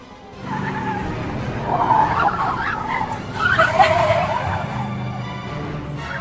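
A car skids toward an electric pole, tires squealing loudly for several seconds in rising and falling surges over engine noise.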